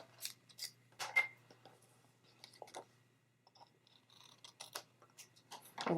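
Scissors snip through a paper band on a Valentine's card at a craft desk, a series of quiet, crisp close clicks and cuts spaced irregularly over a faint low hum.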